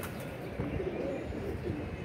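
Pigeons perched on and around a net coo softly in a short, continuous murmur with a faint rolling rhythm, heard at a moderate distance.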